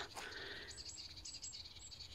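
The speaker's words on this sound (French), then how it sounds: "Tous ces petits oiseaux qui nous font l'honneur d'être là et que l'on peut écouter" Small birds chirp in short, high bursts in woodland against a steady low outdoor hum, faint and a little distant.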